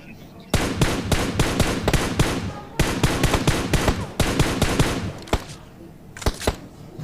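Rapid bursts of gunfire from the mobile battle-royale game PUBG Mobile, with several clusters of loud, closely spaced shots separated by brief pauses, then a few isolated single shots toward the end.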